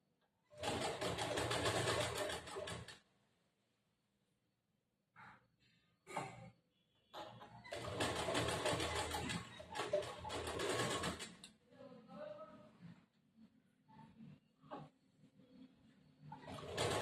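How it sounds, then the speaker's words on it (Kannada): A sewing machine slowly stitches folded blouse piping, running in two long, loud bursts of steady whirring separated by pauses, then shorter softer runs and brief starts toward the end. "ಸ್ವಲ್ಪ ಸ್ವಲ್ಪನೇ ಫೋಲ್ಡ್ ಮಾಡ್ಕೊಂಡು ಫೋಲ್ಡ್ ಮಾಡ್ಕೊಂಡು ನಿಧಾನವಾಗಿ ಹೊಲಿಗೆ ಹಾಕೊಂಡು ಹೊಲಿಗೆ ಹಾಕೊಂಡು ಅದು ಮುಗಿಸ್ಬೇಕು ನಾವು"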